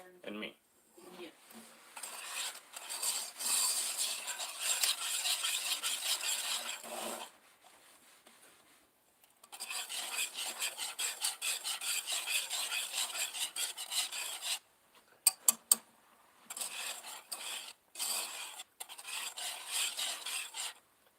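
Spoon stirring and scraping boiling fudge in a pot in a home kitchen, raspy rubbing strokes in bursts separated by short pauses, plus a few sharp clinks, close and fairly quiet.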